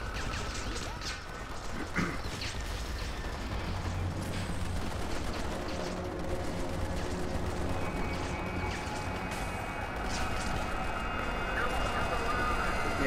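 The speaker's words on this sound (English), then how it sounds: "Shotgun, gunfire!" Shotgun fire and chaotic gunfight noise in the video game Kane & Lynch: Dead Men, dense layered blasts and crashes with sirens and shouting voices over a continuous rumble.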